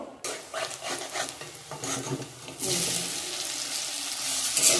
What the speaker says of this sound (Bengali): সাদা তেলে বড়াগুলো ভাজছি, বড় বড় করে দেবো।